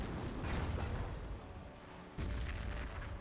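Mortar rounds firing and landing in the World War II strategy game Company of Heroes, several thudding booms amid continuous battlefield rumble, with a louder impact about two seconds in.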